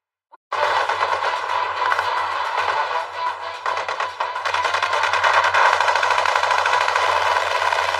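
Rapid automatic gunfire rattles close and loud for several seconds without a break, a dense continuous burst during a firefight.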